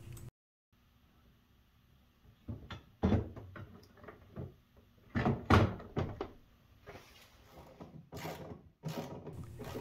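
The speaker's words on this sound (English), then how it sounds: "While reattaching the door to the rails, note that there are two tabs, one on each side, that fit inside of a slot on the, each rail" A Samsung refrigerator's lower ice maker door, faulted with error code 33E, is fitted back onto its rails by its side tabs, giving scattered plastic clicks, knocks and thunks, quiet and close, with no talking.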